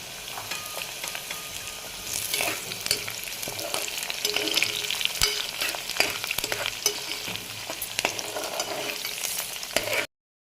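Green chillies fry in hot oil in a pan, a dense, steady crackling sizzle with spattering pops, close and fairly loud, until it cuts off abruptly at the end.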